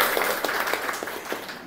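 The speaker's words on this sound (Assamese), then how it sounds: "তাৰ বাবে ছাৰৰ বাবে আৰু এটা উচ্চ স্তৰৰ হাত চাপৰি" Applause from an audience at a teachers' training session, a steady patter of many hands clapping for about two seconds, moderately loud with no talk over it.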